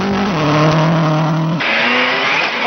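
Petter Solberg's rally car runs on gravel at Rally Finland, its engine close and loud, holding a steady pitch, then dropping sharply through a gear change before droning on at a lower pitch.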